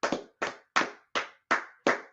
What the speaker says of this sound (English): Let's clap it up for class, right?